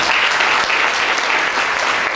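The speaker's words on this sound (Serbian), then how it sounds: "pa vas molim na kraju jedan aplauz i za njih." An audience at an international tourism fair applauds steadily, a dense, loud and continuous clapping from a large crowd throughout.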